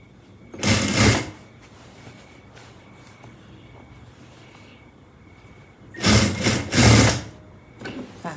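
Sewing machine stitching the seams and lining of a suit jacket, two loud bursts of rapid mechanical whirring, a short run near the start and a longer one near the end, with quiet room tone in between.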